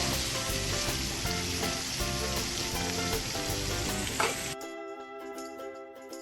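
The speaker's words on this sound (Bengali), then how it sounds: "মাছ ভাজা খাবে বলেছিল সেই জন্য এই যে মাছ ভাজতে বসিয়ে দিয়েছি" Pieces of fish frying in a pan make a loud, close, crackling sizzle with stirring. Near the end a sharp cut drops into a quieter stretch of tonal background. There is no talking.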